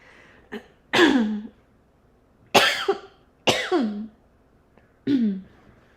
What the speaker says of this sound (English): I don't mean to cough in your ears